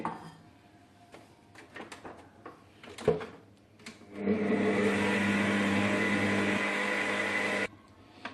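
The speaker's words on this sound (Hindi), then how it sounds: "स्टैंड मिक्सर को चलाएंगे।" A stand mixer whirs steadily while beating chocolate cake batter made with oil and milk, starting after a few clicks and handling noises and running loud and close for about three seconds before stopping.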